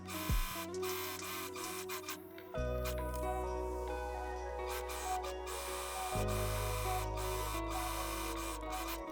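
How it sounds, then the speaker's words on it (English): An overlocker runs steadily while serging the seams of a midi or maxi yoke skirt, with a continuous mechanical hum and rapid stitching whir that shift in pitch as the machine speeds up and slows between passes. "Then, overlock the seams."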